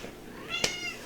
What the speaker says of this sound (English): Sorry, that was the cat you heard there.